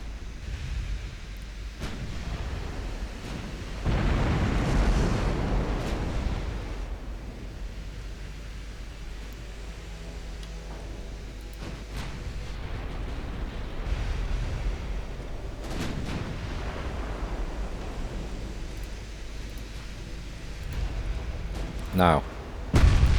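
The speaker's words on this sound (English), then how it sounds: "And are putting rounds into the belts of the enemy battlecruisers." Naval guns from warships fire in the Ultimate Admiral Dreadnoughts game, distant booming salvos rolling over a constant sea-like rumble, with several heavier swells and a sharp crack right at the end.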